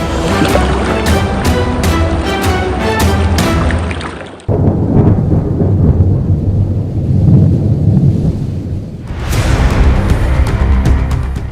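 Heavy rain and thunder in Jalore, Rajasthan: a loud, dense roar of downpour with rumbling thunder. The sound cuts off abruptly partway through and then swells back to full strength, with no voices.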